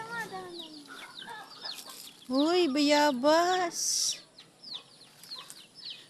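Chickens on a backyard farm cluck and squawk close by in short bursts, with a louder drawn-out call in the middle, while people chat nearby.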